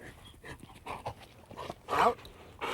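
A retriever dog pants in quick, uneven breaths close by after fetching a bumper, with a louder burst of breathing near the end and soft whimpery tones mixed in.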